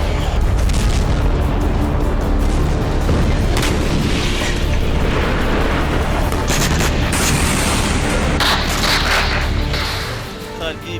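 Loud, sustained explosive rumble and blasts from an air strike hitting a Ukrainian tank near Kharkiv, with dense booming and crashing energy filling the whole stretch before easing off at the end.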